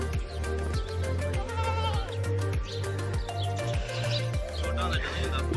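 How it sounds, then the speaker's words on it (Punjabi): Pure desi white Rajanpuri goat with long ears and a parrot-like muzzle bleating repeatedly in a village, a series of close, loud calls about every half second over steady background noise. "ਦੋ ਪਿਓਰ ਦੇਸੀ ਰਾਜਨਪੁਰੀ ਬੱਕਰਾ ਸਫੇਦ ਦੇਖੋ ਜੀ ਰਾਜਨਪੁਰੀ ਬੱਕਰਾ"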